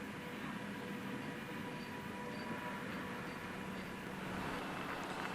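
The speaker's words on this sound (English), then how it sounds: "So as the train pulls into Flam here" A train pulls into Flåm station in Norway, a steady rumbling, rolling drone with faint high squeals, heard continuously at a moderate distance.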